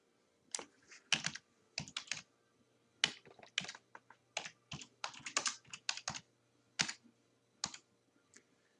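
Someone types on a computer keyboard to edit text, with quiet, close, irregular clusters of key clicks separated by short pauses.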